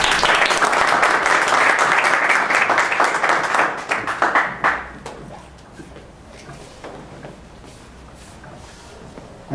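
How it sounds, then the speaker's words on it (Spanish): Audience applause welcoming a speaker at a book presentation held by a geography and statistics society, loud and dense at first, then thinning into scattered claps and fading out. "recibamos a nuestro ponente y consocio de esta noche, por favor, con un aplauso"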